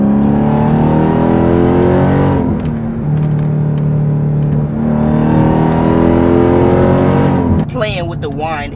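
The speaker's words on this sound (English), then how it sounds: "The downshifts. You can really hear the exhaust a lot more." A Dodge Durango Hellcat SUV engine and exhaust rumble up through the revs, drop as gears downshift, then climb again, loud and close throughout.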